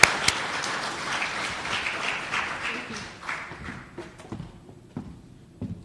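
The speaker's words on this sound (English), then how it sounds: "we should all give a big round of applause to our Master of Ceremony, Fatim, who led us through the day." Audience applause at a report launch forum, a broad burst of clapping that thins out and fades over several seconds, with a few scattered claps near the end.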